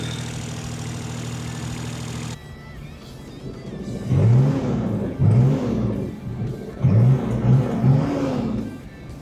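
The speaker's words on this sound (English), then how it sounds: "Motor running, crank it, let it idle." A turbocharged Kubota RTV-X1100C utility vehicle engine runs close by, with a steady hum giving way to a rougher, lower idle with rhythmic surging pulses, and no talking.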